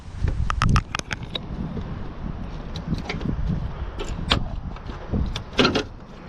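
Front grille on a 2003 GMC Yukon SLT being pried free of its plastic tabs, giving several sharp plastic pops and clicks with rustling handling noise between them, close to the microphone and without speech.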